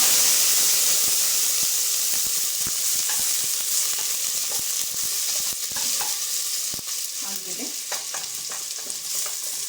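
Vegetables such as beans, cluster beans and broad beans frying in hot oil, a dense continuous hiss with scattered crackles and ticks, close and loud, without speech.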